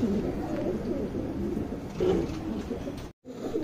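A male and a female Surmai pigeon give soft, low, repeated cooing, faint and close. Light background hiss sits under the calls, with a brief dropout near the end.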